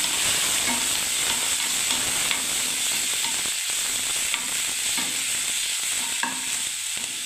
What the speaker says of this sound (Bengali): এবার আমি নাড়তে থাকবো